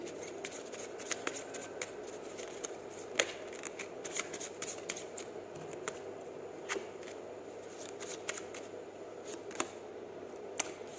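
Tarot cards being shuffled by hand, a steady papery riffling and sliding with sharp flicks scattered throughout, close and fairly quiet, with no talking.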